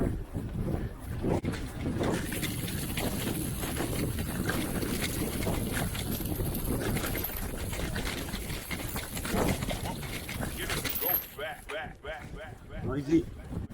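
A 2020 Orbea Occam M10 mountain bike rattles and clatters along a trail with steady rumbling noise and wind buffeting, while a rider talks over it; the noise drops off toward the end.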